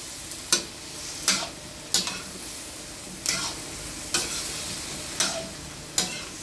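Eggplant, okra, string beans and bitter gourd sautéing for pakbet, a soft continuous sizzle broken by about eight sharp spatula scrapes and clacks at a loose, uneven rhythm, close by with no talking.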